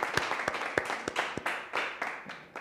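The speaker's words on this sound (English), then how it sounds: "Let's first clap for the women making a difference." Small audience giving a short, sparse round of applause for women making a difference, with individual claps distinct and fairly faint.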